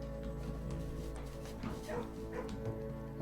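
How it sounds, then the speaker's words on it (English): A dog barks, yips and whimpers in the Blue Prince video game, with several short yelps scattered over steady game background tones at moderate loudness. "Pet dog."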